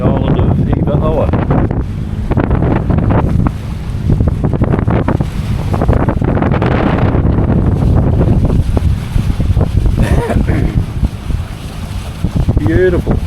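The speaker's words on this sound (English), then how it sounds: "We're just motor sailing around under the headsail." A sailboat motor-sails under its headsail into the wind near the island of Hiva Oa, heavy wind buffeting and rushing water with a low engine drone filling the air loudly and constantly, with a voice speaking over it.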